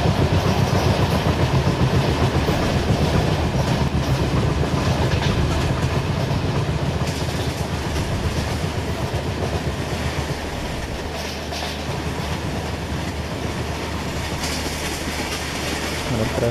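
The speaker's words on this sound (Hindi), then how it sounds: "मतलब ट्रैक साउंड सुन सकते हो" Train track sound in Trainz Simulator from an Amravati AC Express running at about 65 km/h, a loud continuous rumble with rhythmic clickety-clack of wheels over rail joints.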